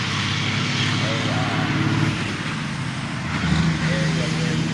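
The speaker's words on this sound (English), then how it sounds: "you can hear trucks and things like that" Heavy road traffic rumbles past outdoors, a steady broad roar of trucks and vehicles that swells and eases as they pass, running continuously beneath the scene.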